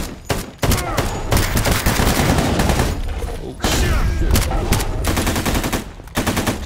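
Rapid automatic gunfire in a Chernobyl nuclear plant raid game, bursting in loud rattling volleys with short gaps between them, close and dominant.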